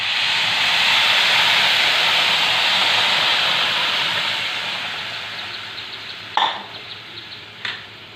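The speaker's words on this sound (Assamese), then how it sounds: "এইবাৰ জোখমতে গৰম পানী দি দিম ইয়াত।" Hot water poured into a hot cooking pot of lentil and banana flower curry, a loud steamy hiss that surges then slowly fades, followed by two sharp clinks near the end.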